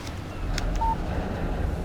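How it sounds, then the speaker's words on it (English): Phone text message alert in the video game Alan Wake, one short electronic beep over a low, steady ambient rumble, with no voices. "Text message from Barry."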